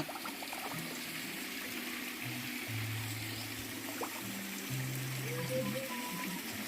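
A small waterfall in a natural hot spring stream pours steadily, a continuous rushing splash of water with low murmuring sounds beneath it.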